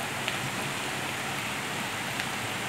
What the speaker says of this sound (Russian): Остался только ливень.